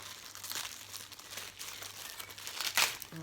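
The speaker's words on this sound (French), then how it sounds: "il est bien emballé, hein, il est emballé dans du papier bulle." Close, steady crinkling and rustling of bubble wrap packaging being handled and pulled open, with a sharper crunch near the end.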